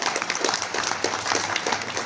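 Continuous applause from a crowd at an official government ceremony handing out appointment letters, a thick, even roar of clapping hands throughout.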